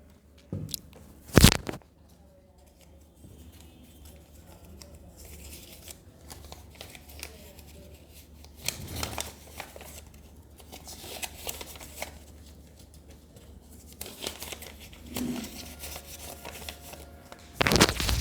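Tarot cards are shuffled and drawn, with sharp riffling bursts and soft card slides and taps spread over a quiet background.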